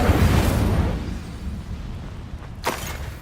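Incendio fire spell cast in Hogwarts Legacy, a loud fiery burst and rumbling whoosh that fades over about two seconds, followed by a sharp second crackling flare near the end.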